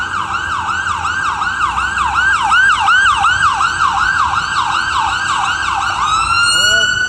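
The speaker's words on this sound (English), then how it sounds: "there's an ambulance right there." A wailing ambulance siren sweeps up and down in steady repeated cycles close by on a city street, loud and continuous, shifting pitch near the end as the vehicle passes, with traffic noise underneath.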